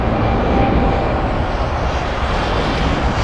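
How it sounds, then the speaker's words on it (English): A Boeing 777 takes off from Los Angeles International Airport, bound for Honolulu, its engines giving a loud, steady, broadband roar that holds throughout with no talking. "777 departing straight out. This one flying to Honolulu."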